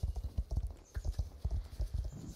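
Steady, rhythmic clip-clop of a horse's hooves from Star Stable Online, close and clear, a continuous trotting beat with no talk over it.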